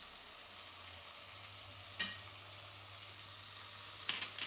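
Red chili sauce goes into pasta cooking in a pressure cooker, giving a steady soft sizzle with a low hum beneath and a couple of brief clinks or scrapes as it is poured and stirred.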